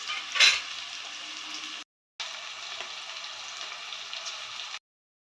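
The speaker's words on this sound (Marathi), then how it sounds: "थोडंसं मीठ घालून घेऊया कांद्यामध्ये, जेणेकरून लवकर कांदा लाल होईल" Onions with salt and curry leaves frying in oil in a pan for an egg curry, a steady close hiss broken by a brief gap, with a soft clatter at the start.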